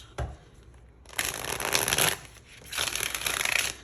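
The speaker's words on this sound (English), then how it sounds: "I want to see what kind of shuffle these cards give." Tarot cards are shuffled twice in quick riffling bursts, close and crisp, with a brief tap before the first shuffle and quiet between.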